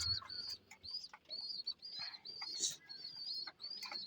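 Pigeons coo and chirp softly while feeding, a faint series of short repeated calls with small taps and rustles in a quiet setting.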